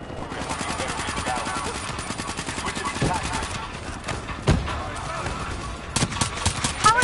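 Rapid gunfire rattles through a Black Ops 3 campaign firefight, with repeated close shots from a 3-round burst weapon and sharper bursts toward the end, under occasional speech.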